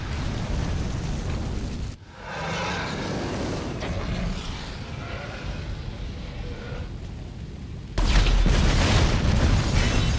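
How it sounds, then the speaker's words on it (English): Explosion in the Grand Theft Auto 5 video game: a sharp onset followed by a sustained loud rumbling roar, with a sudden louder burst of debris-like noise near the end, no talk over it. "It's gonna blow up."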